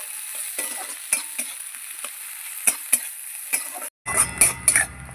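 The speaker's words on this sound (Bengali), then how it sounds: "কুচনো পেঁয়াজ এবার ভালো করে ভেজে নেব" Chopped onions frying and sizzling in a hot pan, with a steady hiss broken by occasional clinks of a stirring utensil against the metal, then a louder burst of sizzling near the end, close and alone.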